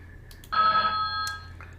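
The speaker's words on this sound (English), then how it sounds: "I'll give it a nice ringtone here." A short electronic alert tone rings once, clear and fairly loud, over a quiet background hum.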